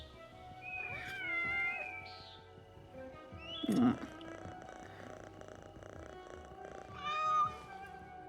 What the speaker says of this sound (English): The purring.